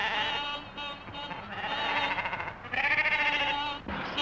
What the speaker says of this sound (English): Sheep all over the road, damn silly things